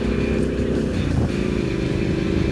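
A motorcycle rides along an open road, its engine droning steadily and loud with constant wind and road rumble, no voices.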